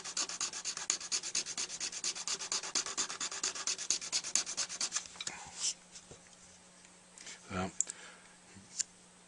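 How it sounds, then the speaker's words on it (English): A double O jeweler's file works on a tip, giving quick rhythmic rasping strokes close up for about five seconds, then a few scattered scrapes and clicks before it goes quiet. "So this is a double O jeweler's file"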